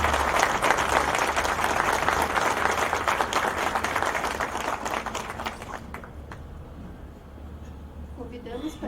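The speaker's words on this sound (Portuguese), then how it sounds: "Vamos dar uma salva de palmas" Applause from an audience at a courthouse inauguration ceremony, a dense burst of clapping that thins and fades toward the end, with a faint voice and some room noise beneath.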